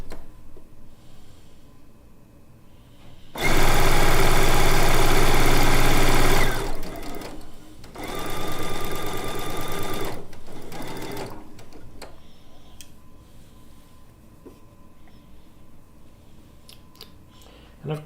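A sewing machine stitches quilt fabric pieces for a blue and white quilt top, running loud in two bursts of steady whirring, one about three seconds long and a shorter one after a brief pause.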